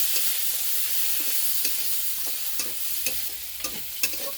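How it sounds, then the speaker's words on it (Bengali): Steady sizzling of frying in a pan after chili and turmeric are added, with a series of scraping spatula strokes stirring at an irregular pace, close and fairly loud, no talk. "ভাজার মধ্যে একটু মরিচ পরিমাণ মতো আর একটু হলুদ দেবো, তারপরে এটাতে নাড়াচাড়া দেবো।"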